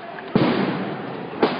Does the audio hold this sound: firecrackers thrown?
yes